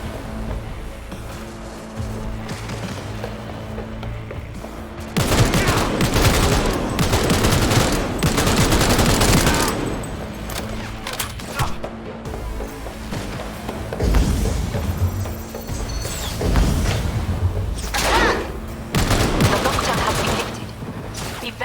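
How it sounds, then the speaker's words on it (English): Bursts of automatic gunfire in a Cyberpunk 2077 firefight, dense rattling volleys and booms coming in waves with short lulls between, loud and sustained over game ambience. "We're taking fire!"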